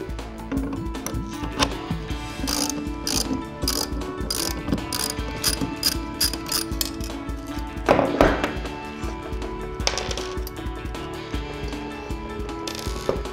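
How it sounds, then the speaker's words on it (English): A ratchet works a bolt loose on a Reed Manufacturing guillotine pipe cutter, giving dense, steady metallic clicking and whirring throughout, with a louder burst of clatter partway through. "To take the blade out, you'll first have to take out these four bolts."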